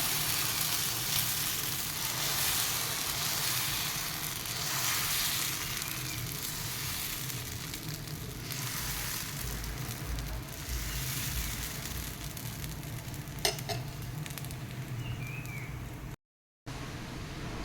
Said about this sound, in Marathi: तवा आपला तापलेला आहे त्याच्यावर आता आपण डोसा घालूया